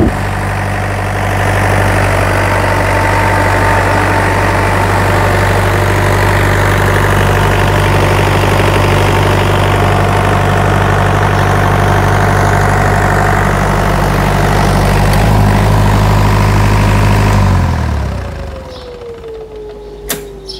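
An electric generator engine idles on a test run, a loud, steady, close mechanical hum and drone that holds evenly for about seventeen seconds, then winds down and cuts off, leaving near silence.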